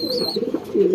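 Pigeon in a loft cooing nearby in low, rolling phrases that swell toward the end, with a faint higher chirp early on.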